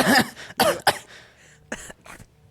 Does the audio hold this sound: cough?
yes